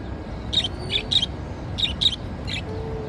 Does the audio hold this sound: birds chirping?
yes